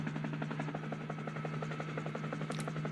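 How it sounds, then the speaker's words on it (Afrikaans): Helicopter rotor blades thump in a steady rapid rhythm over a constant engine hum, close and sustained without any talking. "Dis reg, dis 'n helikopter."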